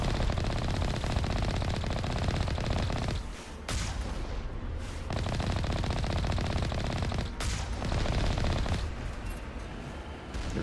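Turret machine guns fire in Mass Effect, loud, dense rapid bursts of gunfire that run almost nonstop, broken by two brief pauses.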